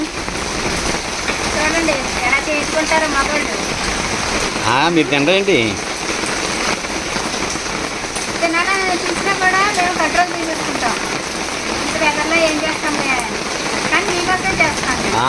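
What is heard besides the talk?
heavy rain falling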